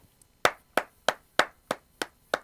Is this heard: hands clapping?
yes